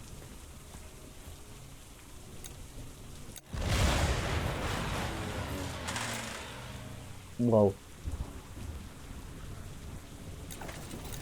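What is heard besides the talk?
rain and thunder in the video game Hex of Steel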